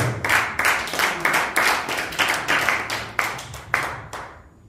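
Church congregation clapping together in a steady rhythm, roughly two claps per second, loud and close, with no talk over it and fading at the end.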